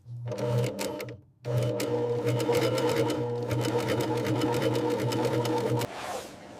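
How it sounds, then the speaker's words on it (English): Sewing machine stitching the Y-pattern into leather in a Lamborghini factory, a loud steady mechanical whir with rapid needle rhythm, a short pause after the opening burst, then continuous running before it winds down. "The iconic Y-pattern stitching."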